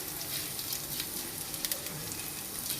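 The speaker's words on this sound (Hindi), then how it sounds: "सी सौते हो जाए तो फिर इसमें ये एग डालेंगे, फ्राई करके निकाल लेंगे।" Eggs frying in a pan for Chinese egg fried rice, giving a steady, close sizzle with faint crackles and spatters throughout.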